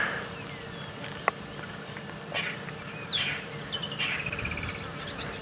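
A brightly colored bird on a wildlife safari gives harsh, scratchy calls in short rasping bursts, moderately distant, over a soft outdoor background with faint chirps.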